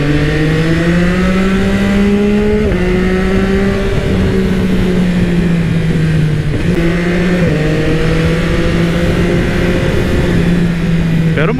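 Yamaha XSR900 motorcycle ridden on a road, its engine note rising in repeated steps through the gears with brief dips at each shift, loud and close throughout with heavy wind rush.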